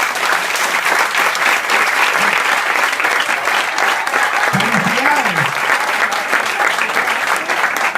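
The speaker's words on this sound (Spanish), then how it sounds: "Un aplauso para esa señora." A room full of people applauding an elderly woman at a book launch in Miami, loud continuous clapping throughout, with a few brief voices and cheers mixed in.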